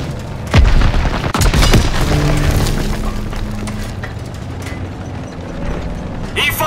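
A Panzerschreck rocket fires and explodes in the World War II shooter Call of Duty WWII, giving two sharp booming blasts near the start followed by sustained rumbling battle noise and scattered mechanical clatter.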